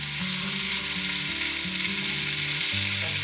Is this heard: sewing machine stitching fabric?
no